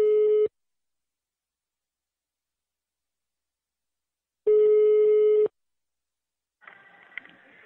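A telephone busy signal after a dropped call sounds as two clean, steady tone bursts separated by silence, followed by a faint, fainter noise near the end.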